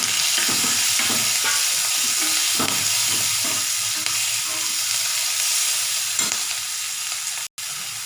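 Tomato sautéing in a pan for nookal (knol-khol) sambar, a steady close sizzle with repeated scraping stirs of the spoon through the whole stretch, no talking.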